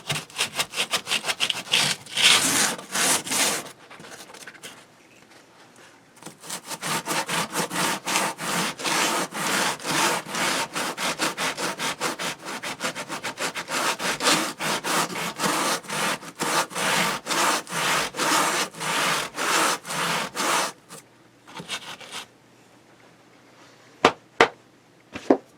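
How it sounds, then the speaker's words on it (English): A sanding sponge scrubbing back and forth on wood on a model grain elevator base, rapid rhythmic rasping strokes in close-up, continuous bursts with a short pause partway through, then a few scattered taps at the end. "I'm going to use this sanding sponge here."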